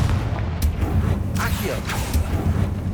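Confringo blast spell in Hogwarts Legacy, a series of heavy booming explosive impacts over a low rumbling battle din, with a voice calling out amid the bursts.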